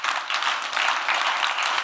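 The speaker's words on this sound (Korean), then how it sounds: "우리 격려의 박수를 한번 쳐주세요" A congregation at a revival meeting's dawn service claps in encouragement, a short burst of steady, dense clapping heard alone with no talk over it.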